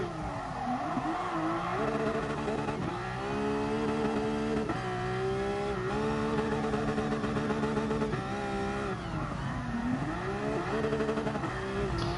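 A car drifting on the Nordschleife in GT Sport, engine wailing and revving up and down through gear changes with tire squeal, loud and continuous for twelve seconds with no talk.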